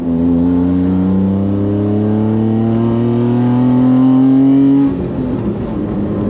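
A former Japanese racetrack race car engine revs loudly and steadily, its pitch climbing smoothly for about five seconds before dropping off into a rougher, lower idle-like rumble.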